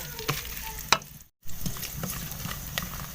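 Four whole red chilies and a spoonful of white cumin seeds roast in a pan, crackling and sizzling close up while a spoon scrapes and stirs, with one sharp clack and a brief silent gap.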